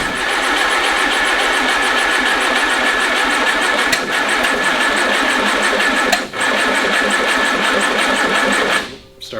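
A Go Devil engine's electric starter cranks loudly and steadily for about nine seconds with a fast, even churn, then cuts out abruptly near the end without the engine catching; no one speaks.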